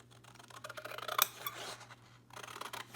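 Scissors snip out a small paper tag while crafting a scrap-paper pocket and mini journal. A few quiet, close, crisp cuts with short pauses between them.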